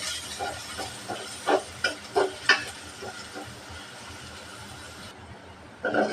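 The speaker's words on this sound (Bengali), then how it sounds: "পেঁয়াজটা ভালোভাবে ভেজে নেব" Chopped onion frying in oil in a pan for a fish curry: a soft, continuous sizzle runs throughout, broken by a regular series of light stirring scrapes and taps.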